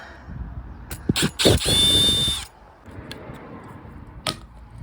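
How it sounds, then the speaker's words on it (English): A few sharp knocks, then a power drill grinds into rock-hard brick for about a second before stopping, followed by quiet background and one more tap. "Drilling the new ones."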